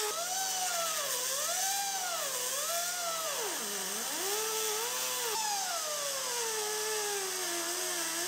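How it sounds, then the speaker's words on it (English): A grinder with a small disc cuts into the seam welds along the bottom of a rusty 1965 car frame rail, its steady high whine rising and dipping in pitch as it loads under pressure, loud and continuous throughout. "Grind off all the seam welds at the bottom."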